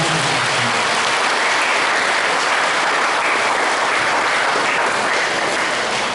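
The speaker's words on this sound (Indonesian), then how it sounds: "Kita beri tepuk tangan." A church crowd celebrating the 52nd parish anniversary of Santo Lukas Pemalang claps loudly and densely, a continuous roar of applause that stays full throughout.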